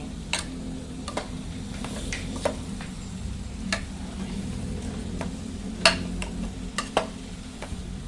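Egg stir-fry being stirred in a pan with a steady low sizzle, spatula scrapes and taps clicking at irregular moments, moderately close, no talking.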